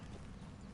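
Horse hooves clip-clopping in Red Dead Redemption 2, a steady trot over rough ground, quiet and brief with no talk.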